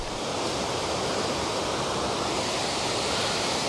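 Autumn waterfall at Karuizawa, Japan, a dense, continuous rushing roar of falling water, steady and loud from start to finish with no voices.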